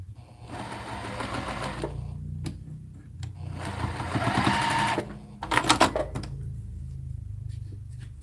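A domestic sewing machine pieces quilt block fabric in two long steady runs of rapid needle stitching, with short pauses and a few clicks and handling sounds between them.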